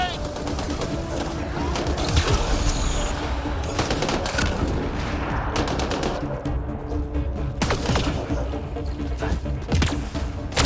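Rapid bursts of gunfire and a grenade launch in the sci-fi shooter Mass Effect: Andromeda, with crackling volleys and heavier thuds continuing throughout over game voices and ambient battle noise.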